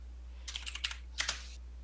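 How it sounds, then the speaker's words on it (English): Quick bursts of typing on a computer keyboard, two short runs of clicky keystrokes heard faintly in the background over a steady low hum. "And I can hear somebody's typing in the background."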